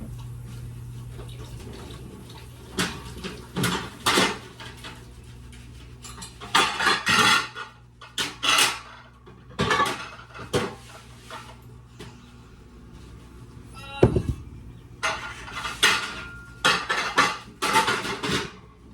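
Dishes, pans and cutlery clatter and clank repeatedly in irregular bursts, with running water from a tap in the background.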